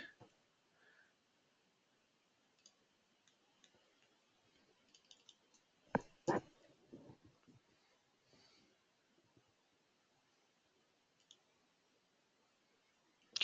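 Sparse computer mouse clicks while browsing to search a clearance item on eBay, a few sharp isolated clicks scattered across quiet room tone with faint handling noise and no talk.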